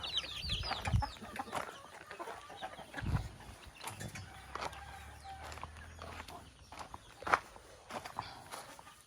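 Roosters and egg-laying hens cluck and chatter around a yard, mixed with shuffling footsteps and scattered bird calls, moderately close.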